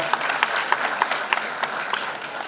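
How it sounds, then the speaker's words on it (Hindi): Audience applause for a performer's father at a Kailash Kher Nayii Udaan event; dense, steady clapping from many hands with a few sharper individual claps standing out, no speech. "पिताजी के लिए एक बार और जोरदार ताली।"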